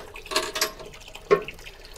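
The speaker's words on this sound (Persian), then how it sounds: "خود دستگاه داره آب رو پر میکنه." A kebab skewer washing machine fills its tank with water, splashing in short bursts, a few brief gushes and trickles, close by and fairly quiet.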